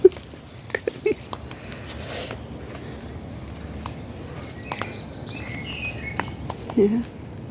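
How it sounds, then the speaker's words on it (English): A blackbird sings in a rain-flattened garden after a thunderstorm, its fluting phrases faint and distant among scattered drips and soft handling noises, with a brief louder call near the end. "blackbird's still singing"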